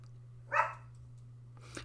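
A single short dog bark sounds at moderate distance over a steady low hum, followed by quiet and a faint second sound near the end.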